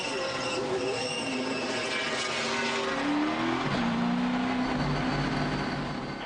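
NASCAR stock cars racing at Texas Motor Speedway in the 2008 Dickies 500, a continuous loud engine roar with rising and falling pitch as cars pass, steady and dense throughout.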